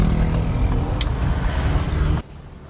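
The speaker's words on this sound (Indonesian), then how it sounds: "responsif juga, cukup terasa akselerasinya saat kita kick down gasnya" A 1994 Mercedes-Benz W124 E320 with the 3.2-litre engine and manual gearbox accelerates hard on kick-down in city traffic, giving a loud, steady close-up engine roar that cuts off abruptly near the end.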